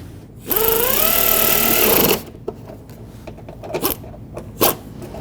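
Screws being tightened on the splash shield of a 2013-2020 Nissan Pathfinder inner fender liner: one close, loud power-driver whir lasting about a second and a half with rising pitch, followed by scattered clicks and handling knocks.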